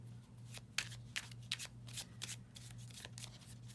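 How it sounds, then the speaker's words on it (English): Tarot cards are shuffled by hand in a run of crisp, rapid riffling bursts over a steady low hum, close and fairly quiet, with no talking. "Okay, so let's pull 3 cards."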